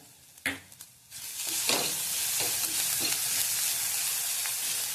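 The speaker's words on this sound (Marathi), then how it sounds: "कांदा भाजून आता कांदा चांगला तेलात भाजलाय" A couple of metal clinks, then onions hit hot oil and a steady, close sizzling hiss holds throughout, with faint stirring scrapes in a radish bhaji preparation.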